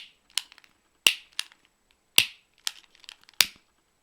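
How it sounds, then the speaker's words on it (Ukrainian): A lighter used to melt the edges of fabric petals gives sharp, close clicks, about six of them spaced irregularly with brief softer ticks between, in an otherwise quiet room. "і заплавляємо запальничкою."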